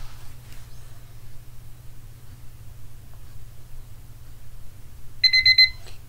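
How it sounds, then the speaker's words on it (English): A timer alarm goes off near the end as a brief burst of rapid, high electronic beeping over a faint low hum that fills the otherwise quiet room. "I've got a timer right here."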